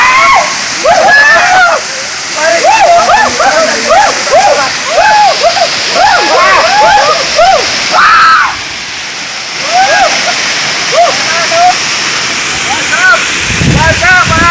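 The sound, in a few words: Bisebes Falls waterfall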